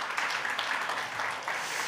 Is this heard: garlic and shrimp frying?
no